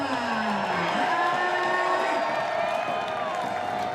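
A baseball stadium crowd cheers and whoops with the bases loaded, a steady roar with scattered applause and voices rising above it.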